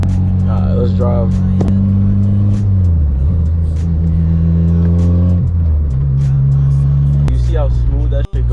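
A boosted 12–15 ninth-generation Honda Civic with performance shifter cables pulls through its gears, the engine note rising and then dropping at each shift, heard from inside the car with a voice talking over it.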